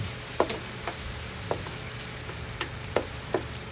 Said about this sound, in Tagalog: Then, gigisa-gisahin mo lang yan ng konti.